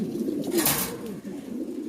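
Soft, low cooing of black Lahore pigeons murmurs steadily, a couple of birds close by with no one talking.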